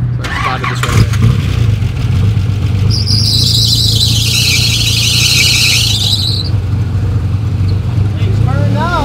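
A Nissan 300Z cranks and catches, its starter whirring under a high belt squeal that rises and fades as the engine settles into a loud, close idle, with a voice speaking briefly.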